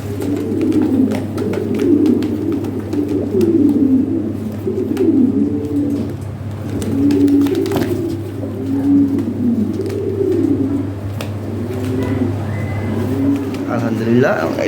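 Domestic fancy pigeons coo in repeated low, throaty rolling phrases close by, over a steady engine-like hum, with a brief scuffle near the end.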